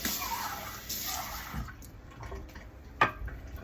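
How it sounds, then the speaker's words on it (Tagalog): Tap water runs as food is rinsed in a kitchen, likely for chicken and olives in a slow cooker, a quiet splashing flow with drips and a sharp clank near the end. "At hugasan ito ng tubig"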